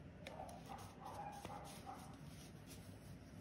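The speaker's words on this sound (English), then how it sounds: "My dogs are barking upstairs." Dogs bark from upstairs in a house, distant and muffled, a few scattered yips and barks over steady room noise while someone works in the basement.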